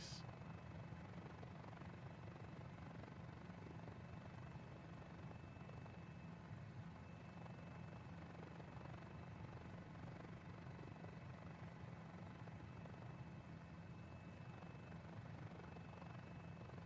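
A Mini-500 helicopter engine drones steadily and faintly in flight, a continuous low throb with rotor pulsing, with no talk.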